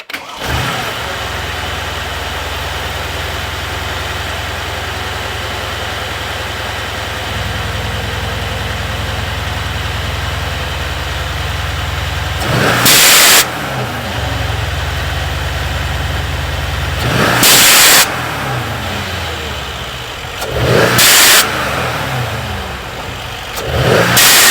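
Mercedes C63 fitted with Renntech blow off valves idling loudly nearby, then revving hard several times, each rev ending in a sharp hissing whoosh from the valves.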